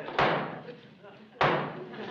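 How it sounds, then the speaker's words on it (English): Two heavy blows against a door on a sitcom set, each a sharp thud followed by a decaying rumble, about a second apart. "Oh, that must be Tedsy baby chopping at the door now."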